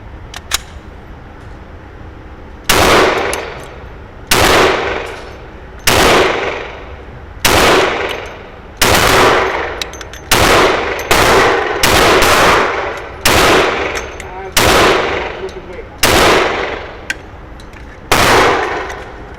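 Shots from .45 ACP and 10mm handguns ring out at an outdoor shooting range, a dozen loud, sharp reports spaced roughly a second or two apart, each trailing off in a short echo.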